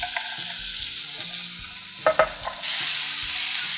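Garlic, shallots and chili sizzle steadily in oil in a pan with a few stirring clicks and scrapes, the frying growing louder and hissier toward the end over soft background music.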